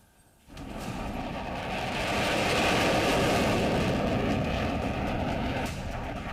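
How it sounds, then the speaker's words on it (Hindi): Indian Air Force fighter jets landing on the Purvanchal Expressway give a loud, continuous broadband roar that swells after a brief quiet start and holds steady, close and overwhelming, with no talk. "भारतीय फाइटर जेट जब पूर्वांचल एक्सप्रेसवे पर उतरे तो उनकी गर्जना सीमा"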